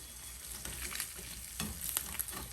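Three strips of bacon fry in a pan with a quiet, continuous crackling sizzle and a few faint pops. No voices can be heard.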